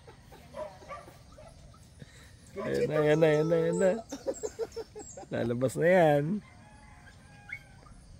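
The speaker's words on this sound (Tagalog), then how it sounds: "Oh, may umiiyak ng aso." A dog at a cool countryside campground in Cavite gives two drawn-out whining cries a couple of seconds apart, amid quiet outdoor background and people talking nearby.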